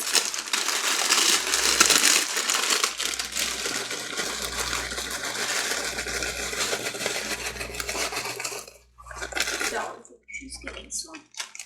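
Potato chips being crushed inside their bag in a home kitchen, a long run of crinkling and crunching that is loud up close, with a low rhythmic hum beneath and a couple of pauses near the end.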